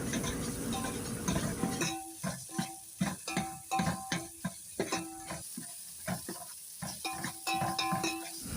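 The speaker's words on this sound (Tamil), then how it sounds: "இஞ்சி பூண்டு பேஸ்ட்டு பச்சை வாசம் போகிற அளவுக்கு கொஞ்சம் நல்லா வதக்கிங்க" Ginger garlic paste sautéing in a pan for a chicken curry, with a steady frying sizzle and repeated close scraping and clinking of a spoon stirring against the pan, no talk.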